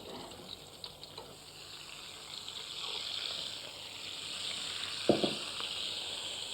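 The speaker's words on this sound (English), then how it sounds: "they're ready to fry then in the bacon fat" Potatoes fry in bacon fat with a quiet, steady sizzle and hiss, gentle crackles and a few stirring clinks rising toward the end, soft and close.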